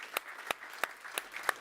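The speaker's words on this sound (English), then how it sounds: "Let's give a big round of applause to Andrzej Kolar," A handful of separate, fairly faint claps ring out at a transatlantic policy forum as a Member of the European Parliament is welcomed to the stage, spaced irregularly rather than forming full applause.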